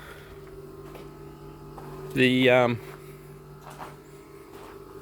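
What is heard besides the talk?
Austech compressed air dryer running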